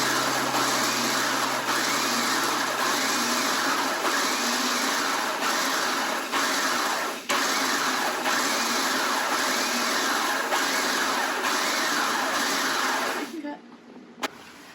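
Food processor pulsing Oreo cookies into crumbs, a loud continuous whirring motor with short pauses between pulses, running steadily for most of the stretch before stopping near the end.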